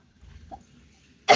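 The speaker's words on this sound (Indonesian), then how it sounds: "ini saya sedikit batuk, masih batuk-batuk" A single short cough lands at the end, loud and close, after a nearly quiet stretch with faint background murmur, during an online university webinar.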